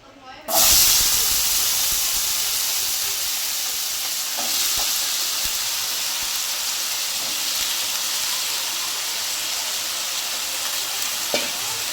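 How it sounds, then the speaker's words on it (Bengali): Chopped potatoes dropped into hot oil, a loud burst of sizzling that settles into a steady bright hiss with occasional clicks of stirring. "যে আলুগুলো কুচি কুচি করে কেটে রেখেছিলাম সেই আলুগুলো ভেজে নেব"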